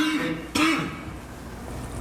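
A single harsh throat-clearing cough bursts out near the mic, followed by quieter room noise and a faint rasp.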